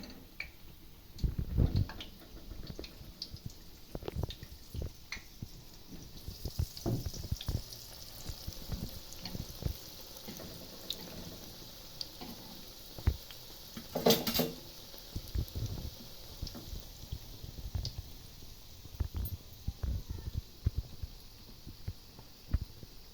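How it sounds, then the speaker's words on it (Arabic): Falafel frying in hot oil in a pan, a quiet steady sizzle with scattered soft ticks and pops throughout. "حنا كنديرو في الزيت اللي تيطيب عندنا في المقله"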